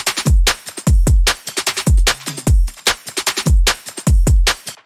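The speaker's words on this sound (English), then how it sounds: "Then I have some drum loops going on." A drum loop in a hybrid trap track plays loud and alone, with booming kicks, sharp snares and busy hi-hat patterns in a steady, punchy rhythm.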